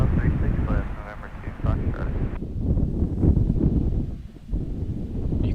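Wind gusts and buffets a microphone at Amsterdam Schiphol Airport, a steady broadband rumble that swells and dips throughout, with voices talking over it in the first half.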